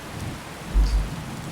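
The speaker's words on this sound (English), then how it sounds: "Hopefully it'll stop raining soon." Steady rain falls in a video game storm, with a low rumble of thunder swelling briefly midway through the short stretch, no voices present.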